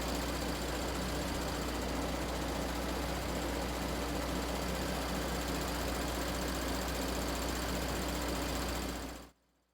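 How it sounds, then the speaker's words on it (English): A car engine idles steadily in a workshop with a constant low hum and rattle for several seconds, then the sound drops away quickly to silence. "we recorded the engine in the workshop at idle speed"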